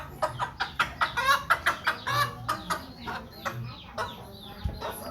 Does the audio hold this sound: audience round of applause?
no